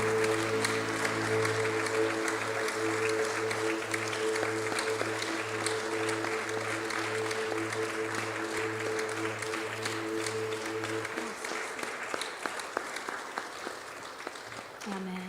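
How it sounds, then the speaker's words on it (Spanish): Church congregation at Casa de Oracion in Fresno claps for God, a dense continuous applause under a sustained organ or keyboard chord that cuts off partway, with the clapping fading toward the end. "Dale un aplauso a tu Dios."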